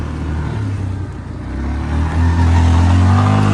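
A Yamaha Banshee ATV engine drones steadily and then climbs louder in pitch as it revs, its wheels spinning uselessly in grass, loud and close throughout.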